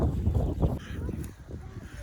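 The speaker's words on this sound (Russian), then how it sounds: "Уточки кричат." Ducks calling on a lake, a jumble of honking and quacking from a flock, somewhat distant over steady outdoor background noise.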